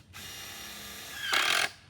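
A screw gun whirs steadily while driving a screw into a gutter, then rises into a louder, harsher burst as the screw seats, close and alone with no talk.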